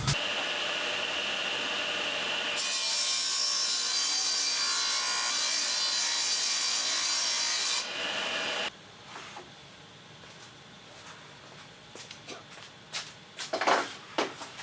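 Wood being cut on a miter saw to trim about an inch and a half off a piece for a saw upgrade: a loud, steady sawing roar for several seconds, then quieter scattered clunks and handling noises.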